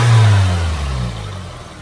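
Nissan SR20 engine in an Infiniti G20 idling at raised revs, a steady low drone that is loud at first and eases slightly lower and quieter as it settles, heard alone with no voices.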